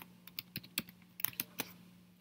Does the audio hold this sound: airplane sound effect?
no